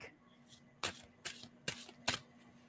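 Cards are riffled in four quick, crisp bursts at a steady pace, close up and fairly quiet, with no speech over them.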